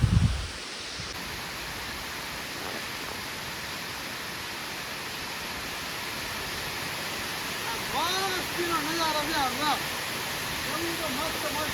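Water in a village dam makes a steady, soft rushing wash that runs throughout at low volume, with people talking faintly toward the end.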